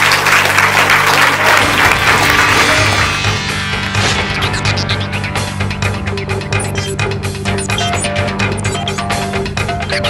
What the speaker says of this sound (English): just clapping of your hands for Famelab 5